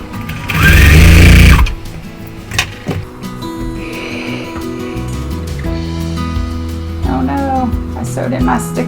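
Sewing machine stitching quilt block pieces, sped up: a loud, fast whirring burst of stitching near the start, followed by softer handling noises under a quiet voice.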